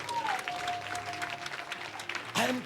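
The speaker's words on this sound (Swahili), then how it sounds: "angalau mmepiga makofi, pigeni vizuri basi." A church congregation applauding during a pastor's sermon, a brief burst of clapping from the crowd under a voice, swelling again near the end.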